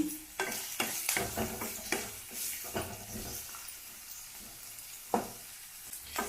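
Garlic fries in oil in a pan for ridge gourd chutney, stirred with repeated scraping strokes over a soft, close sizzle, with no talking.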